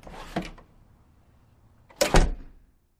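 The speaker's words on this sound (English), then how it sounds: "There's a door." A door closing and then shutting again, two short knocking thuds separated by about a second and a half of quiet, heard close and alone with no voices.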